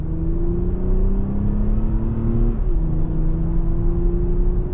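A 2024 Toyota Camry TRD accelerating hard from inside the cabin, a loud steady engine drone climbing in pitch, dipping briefly at a gear shift and then rising again, with no talking.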